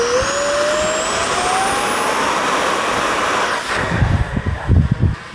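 Batwing V2 model aircraft motor whining steadily at launch, its pitch rising as it speeds away, with gusty wind buffeting the microphone in the last seconds.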